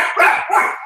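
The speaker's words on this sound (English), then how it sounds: "Excuse my dogs for a minute. They hear something outside." Dogs bark indoors in a short, loud, close burst of two overlapping yaps.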